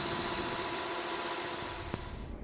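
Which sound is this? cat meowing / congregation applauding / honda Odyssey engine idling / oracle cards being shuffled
honda Odyssey engine idling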